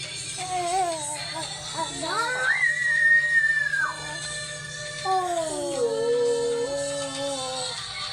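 A child shrieks in long, rising and sustained high-pitched cries, loud and close, over a steady low background hum.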